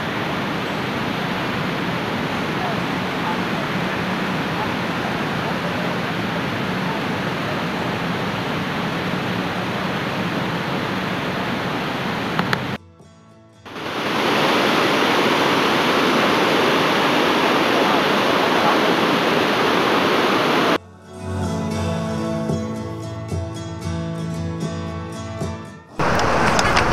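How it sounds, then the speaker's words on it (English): A river roars over a waterfall at Greenville Falls, Ohio, a loud, unbroken rushing wash that dips briefly midway and later turns rougher and choppier, with no talk. "I don't know if you can hear the roar of the river or not."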